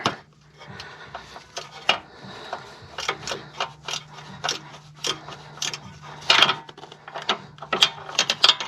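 Ratchet turning a socket on an extension bar while fitting poly bushes to a Ford ST220 anti-roll bar, a close, rapid series of uneven clicking bursts with short pauses between strokes, no talking.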